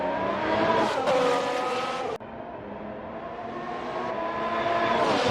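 Race cars lap the Canadian Grand Prix circuit in a racing video game, with high-pitched engines revving and shifting up close and a brief tyre squeal, continuous and loud.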